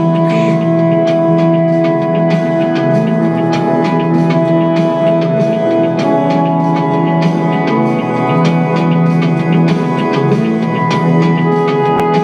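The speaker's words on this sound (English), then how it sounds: "you can hear the real strong drum samples, and then in the background, the drum machine's going" Hard-hitting sampled drums pound up front while a drum machine keeps time behind them, set in a full, loud mix with sustained guitar and bass tones throughout, heard during the production of a guitarist's album.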